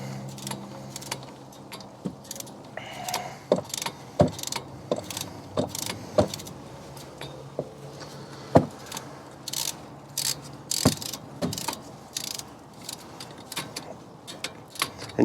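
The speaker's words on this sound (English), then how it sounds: "move off our regular 3/8 ratchet onto a torque ratchet, 3/8 as well, and you just go ahead and start to spin it" A 3/8 torque ratchet spins and clicks while tightening a brake bolt on a 2016 Hyundai Tucson front brake, giving rapid small metallic clicks and ticks, close and fairly quiet, with no talking.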